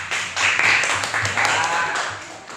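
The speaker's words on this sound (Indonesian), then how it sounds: "Sip, tepuk tangan teman kita." Children in a classroom clap together in a sustained burst of fairly loud, dense applause, with young voices mixed in over it.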